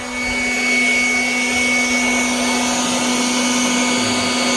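A Ryobi P2109VNM leaf blower roars steadily as it blasts air at a cardboard box, a loud, close, continuous rushing noise with a droning engine tone throughout.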